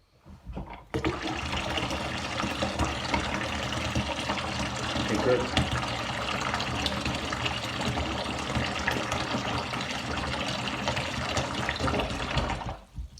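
Water runs steadily into a bottle held in a sink, a continuous close rush and gurgle lasting several seconds before cutting off, with a brief spoken remark partway through.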